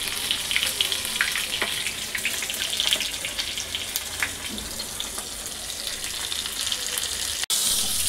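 Bangda and bombil fish shallow-frying in spiced masala in a pan, a loud continuous crackling sizzle with scattered pops, heard close up with no talking.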